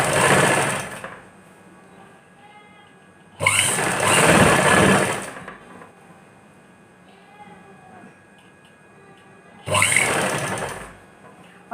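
A sewing machine stitches the front neckline strip of a salwar suit with thick stitching, running in three loud, close bursts of a few seconds each, separated by quieter stretches with a faint hum.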